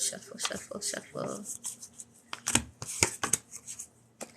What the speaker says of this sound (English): So as you're doing that, I'm gonna shuffle.